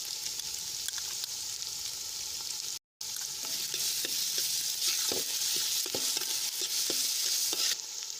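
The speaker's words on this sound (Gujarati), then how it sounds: "ડુંગળી આછા ગુલાબી રંગની થાય ત્યાં સુધી આપણે સંતળાવા દઈશું" Onions sauté in a pan on a wood-fired chulha, a steady bright sizzle with scattered stirring scrapes and a brief gap early on.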